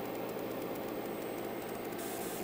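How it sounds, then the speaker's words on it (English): The frequency counter in an HP 8640B signal generator gives off a steady, even electronic hiss with a faint rapid pulsing woven through it. "Most of the noise you hear is from my counter."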